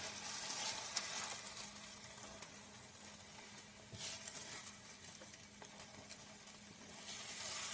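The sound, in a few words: soft scrambled eggs cooking and stirred in a pan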